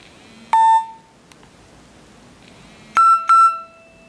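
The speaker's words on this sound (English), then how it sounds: "Beep once, ringtone." Nokia 225 mobile phone playing its 'Beep once' ringtone: a short bright electronic beep, then after a pause two more beeps in quick succession, loud and close with no talking.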